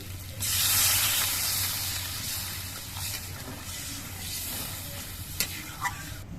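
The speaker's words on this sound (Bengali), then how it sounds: "এবার এর মধ্যে আমি ঝোল দিয়ে দিচ্ছি" Broth poured into spiced potatoes frying in oil for a pabda fish curry sets off a sudden loud, steamy sizzle that settles into a steady bubbling hiss with a few light clinks.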